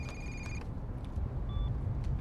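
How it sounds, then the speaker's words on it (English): A telephone rings in short electronic bursts, two rings separated by a pause, fairly faint over a low background rumble. "For God's sake, Harold, would you please answer that phone?"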